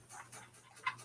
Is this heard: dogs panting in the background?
yes